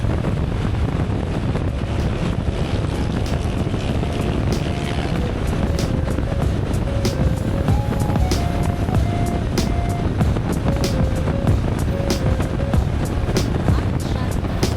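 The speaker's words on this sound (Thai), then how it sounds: "เสียงลมอาจจะดังนิดนึงนะครับ เพราะว่า มันไม่มีตัวตัดลม" Steady, loud wind roar buffets the microphone throughout while riding a Honda X-ADV 750 scooter-style motorcycle at around 130 km/h without a windshield, with a faint engine tone running underneath.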